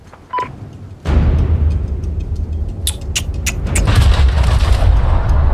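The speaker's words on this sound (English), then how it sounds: "fire the world buster at these fine gentlemen right here" An enormous world buster weapon fires in the game Teardown, one sharp onset followed by a sustained, loud, roaring rumble of destruction that swells and thickens toward the end, with crackling debris throughout.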